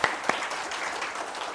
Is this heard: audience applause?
yes